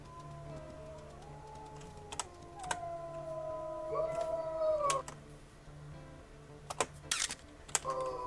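Wolves in the video game WolfQuest howl in long, sliding tones that overlap as a second voice joins in, heard under soft clicking and tapping sounds.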